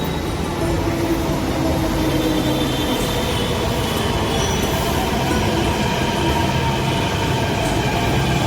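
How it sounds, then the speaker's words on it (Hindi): A Delhi metro train rolls along from District Centre, a loud steady rumble of wheels on track with faint squeals and a constant mechanical drone, heard from inside a crowded carriage. "हम हो चुके हैं डिस्ट्रिक्ट सेंटर से मेट्रो में सवार और बैठ चुके हैं।"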